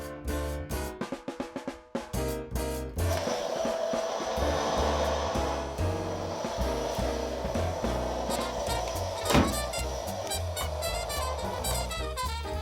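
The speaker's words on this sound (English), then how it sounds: "the sound of the hoover drowning out the TV" A household vacuum cleaner (hoover) runs steadily and loudly for most of the clip after a few short knocks at the start, its continuous whine and roar filling the room.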